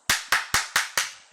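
Five sharp hand claps from a coach during a gold-rank Overwatch Kiriko coaching session, evenly spaced and fairly close, each with a crisp attack and quick decay, with no talking.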